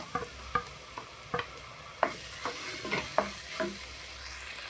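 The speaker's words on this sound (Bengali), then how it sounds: "এবার এটাও ভালো করে কিছুক্ষণ ভেজে নেবো" Ginger-garlic paste frying with browned onions in a pan for an aubergine rezala, giving a steady close sizzle broken by repeated scraping stirs of a spoon, with no voices.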